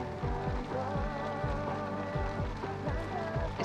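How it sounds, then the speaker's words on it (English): Hail patters steadily on the ground in The Sims 3, a dense, even rattle of small impacts heard continuously beneath looping game music. "It's hailing."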